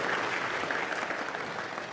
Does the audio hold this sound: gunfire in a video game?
no